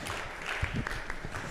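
A church congregation claps for a couple during a Saturday service, a short burst of scattered applause at moderate volume.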